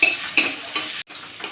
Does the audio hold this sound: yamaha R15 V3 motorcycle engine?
no